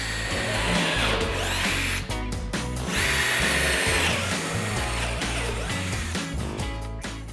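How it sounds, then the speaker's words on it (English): A cordless drill whirs steadily as it cuts plugs from scrap wood, with short pauses and restarts between cuts. "you can chuck it in a portable or cordless drill and cut your plugs"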